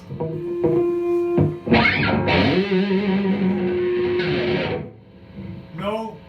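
Electric guitar played through a Firefly FFLV tube amp with a Boss Metal Zone distortion pedal, loud and heavily saturated, with sustained held notes and chords after a few picked tones, ending in a brief decaying strum.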